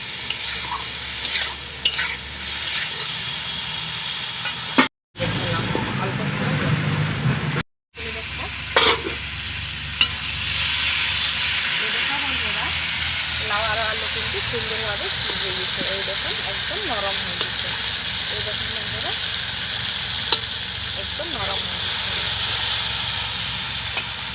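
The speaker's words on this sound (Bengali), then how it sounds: "নুন আরও হলুদ দিয়ে ভালোভাবে কষে নেবো মশলা সাথে" Banana stem fries in a pan with salt, turmeric and spices, stirred vigorously: a sustained hissing sizzle with frequent spatula scrapes and knocks, briefly cut off twice early on.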